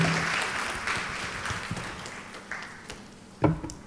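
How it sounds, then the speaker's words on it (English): Audience applause at a startup pitch competition finale, steady clapping that tapers off, with a brief louder burst of claps near the end. "A big round of applause"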